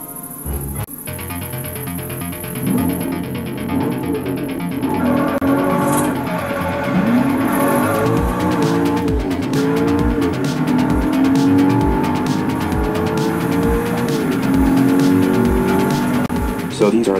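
In Forza Horizon, a game car starts and drives off, its engine revving and droning loudly with rising and falling pitch and some tire noise, while voices talk over it.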